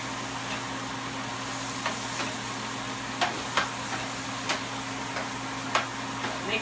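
Celery tossed into a hot pan of stir-fried beef and broccoli sizzles steadily, with a few sharp utensil clicks and scrapes standing out over the constant frying hiss.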